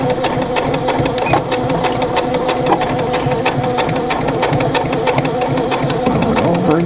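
A sewing machine stitches a fabric glasses case in one continuous, loud, close run with a steady mechanical chatter throughout.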